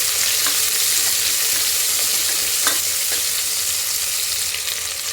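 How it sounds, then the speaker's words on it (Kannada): Cauliflower rice ingredients frying in a pan until golden, a loud, continuous close-up sizzle with a few faint stirring taps, no voices. "ಸ್ವಲ್ಪ ಗೋಲ್ಡನ್ ಕಲರ್ ಬರೋವರೆಗೂ ಫ್ರೈ ಮಾಡ್ಕೋಬೇಕು."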